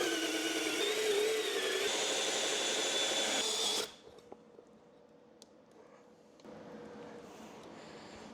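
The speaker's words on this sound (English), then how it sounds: "I'm going to drill a hole right here through this piece of wood" A power drill bores a hole through a 3/4 inch piece of pressure treated plywood, a loud steady whir for about four seconds that stops abruptly, followed by quieter handling noise and a faint restarted hum.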